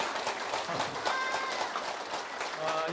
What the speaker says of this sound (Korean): 여러분 뜨거운 박수 주시기 바랍니다